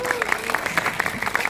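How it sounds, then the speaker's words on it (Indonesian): A crowd claps for a performer named Michelle at a film event, a short burst of brisk, fairly loud applause with a voice faintly underneath. "saya ingin tepuk tangan yang luar biasa untuk Michelle"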